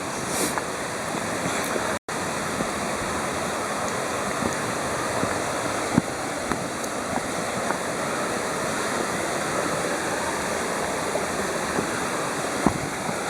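River water rushing steadily over stones near houses in the Ariège countryside, a continuous broadband roar that stays loud and even throughout, with a brief dropout near the start.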